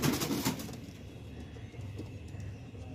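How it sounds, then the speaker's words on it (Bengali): Loft pigeons coo at dusk as they gather to go back into their loft: a low, steady murmur of cooing with a louder burst at the start, fairly close, with no talking. "এখন সন্ধ্যেবেলার দিকে পায়রা ঘরে ঢোকার জন্য করছে"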